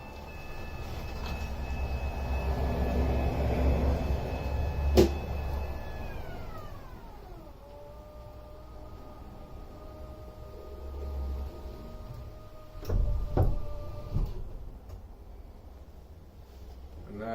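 A FAAC D1000 garage door operator drives a door closed, its motor humming steadily, then dropping in pitch and settling into a lower drone before a few loud clunks and a rattle as the door shuts.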